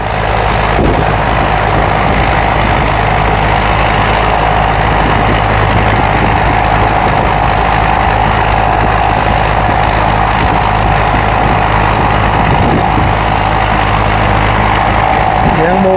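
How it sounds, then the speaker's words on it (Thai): A combine harvester engine runs continuously while cutting rice in a paddy field during harvest, a loud, steady heavy drone with a constant high whine on top and no pauses. "กับเสียงเครื่องยนต์ของเขานะครับ"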